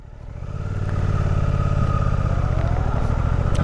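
A motorcycle engine idles then pulls away as the clutch engages, a steady close throbbing drone that builds in loudness and holds, with light mechanical clatter.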